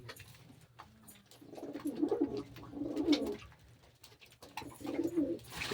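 Pigeons coo in repeated low, rolling bursts, several calls close by at moderate volume with quiet gaps between them and no talking.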